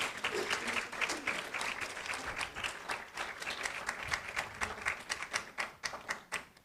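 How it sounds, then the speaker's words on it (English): Close, lively hand clapping from a conference audience thanking a panel, dense and rhythmic with individual claps audible, no talk over it. "That's not enough hand clap for the panel."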